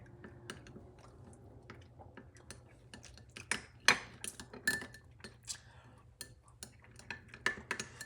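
A spoon mixes pomegranate chimichurri in a bowl, quiet scraping and irregular sharp clinks of metal against the dish, some louder taps standing out against a low background hum.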